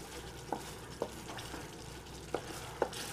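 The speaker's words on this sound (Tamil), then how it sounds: "நல்லா கிண்டி விட்டுக்கிட்டே இருங்க" Thick Bombay ice halwa being stirred in a pan, a spoon scraping through the stiffening mixture in several distinct strokes over a soft steady sizzle, close and fairly quiet, with no talking.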